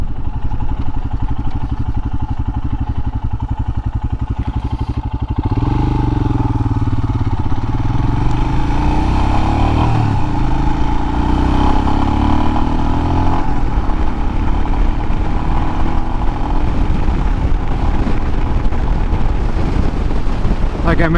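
A Royal Enfield Himalayan motorcycle cruises at about 50–55 mph on a rural road, its engine droning steadily under loud, constant wind rush on the microphone throughout.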